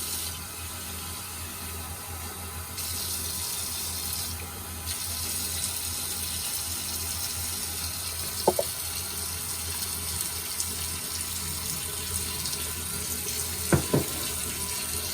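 Steady running water from a tap, fairly hot, pours continuously for pizza dough, filling the whole stretch, with a couple of faint clinks partway through.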